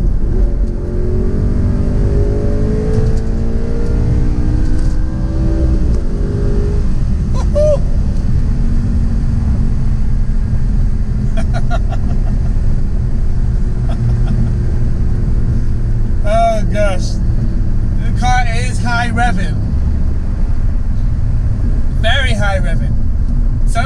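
A 2011 Audi R8 Spyder pulls hard, its engine rising through the revs and then droning loud and near under wind noise, with brief voice sounds over it.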